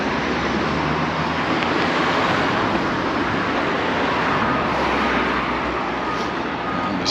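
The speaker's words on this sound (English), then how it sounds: "constant stream of lorries." A constant stream of lorries rumbles past outside a derelict hospital site in Mallorca, forming a loud, unbroken roar of engines and tyres with no distinct gaps between vehicles.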